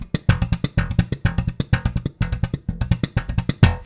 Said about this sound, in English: Go ahead and do these all as ghosted notes right now.